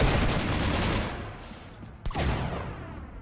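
Sustained gunfire in the Mass Effect video game, a dense roaring fusillade of overlapping shots that fades briefly before a sharp thump and another surge of rattling fire.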